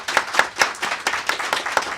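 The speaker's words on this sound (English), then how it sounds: "can we have a round of applause for Lawrence?" A round of applause for a person during a Christmas Eve church gathering, with dense, steady clapping from a crowd that rises and falls in bursts and has no voices over it.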